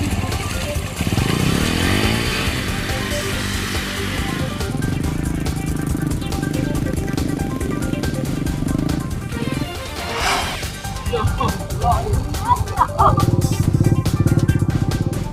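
Motorcycles pushed and ridden along a muddy, damaged road in Rawapitu, Tulang Bawang, Indonesia, engines revving and idling loudly nearby with clattering and rattling, shifting in pitch as riders strain through the mud, with voices in the background.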